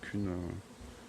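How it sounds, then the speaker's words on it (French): A brief, close buzz of a bee droning past among beehives, loud for a moment and then fading into a quieter background hum. "Vous voyez là je suis au milieu des abeilles"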